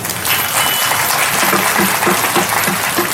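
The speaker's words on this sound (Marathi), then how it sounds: "एकदा सर्वांनी जोरदार टाळी वाजवा" Audience at a Marathi kirtan clapping loudly together, a dense continuous applause with a faint rhythmic undertone, steady throughout and close.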